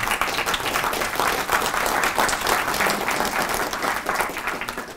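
Sustained, dense applause from an audience at a professorial inauguration ceremony, even and fairly close, with no talking over it.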